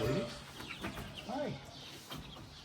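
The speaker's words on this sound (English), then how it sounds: "Chickens that lay eggs." Chickens (egg-laying hens) clucking and calling at a historic Shaker village farm, a few short rising clucks close by over outdoor ambience with some background talk.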